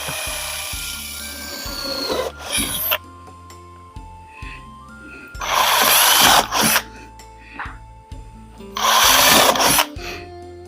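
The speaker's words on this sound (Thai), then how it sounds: "เราก็เจาะเจาะให้มันเยอะ ๆ เลย" A power drill whirs in several short bursts separated by quiet pauses and clicks, each burst loud and close as it bores through material.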